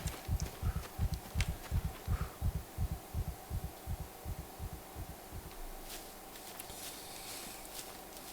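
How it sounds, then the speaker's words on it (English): A player character's heartbeat thumps steadily in the video game Scum, a regular low double pulse repeating for several seconds over a quiet ambient hum, then fading out as faint outdoor noise remains. "that thumping sound I keep hearing is my heartbeat"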